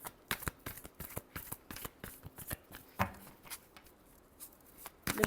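Tarot cards being shuffled by hand, a quick run of crisp riffling slaps and flutters with brief pauses between bursts, close and clear with no talking.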